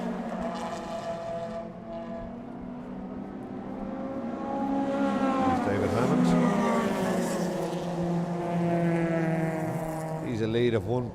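Honda race cars from the ICCR 2023 Round 1 race scream down the main straight together, engines roaring loud and continuous with rising and falling pitch as they pass, a commentator talking over them throughout.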